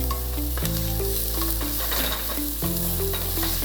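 Garlic and vegetables sizzle steadily in an oiled frying pan as they are stirred, with scraping knocks from the utensil over a constant crackling hiss, close up.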